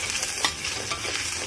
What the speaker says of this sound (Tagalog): So, lutuin lang natin ng konti yung kanyang sibuyas.